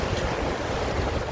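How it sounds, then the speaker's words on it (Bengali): Sea waves make a loud, steady roar mixed with wind buffeting the microphone, continuous through the whole short stretch. "এটা সাগর"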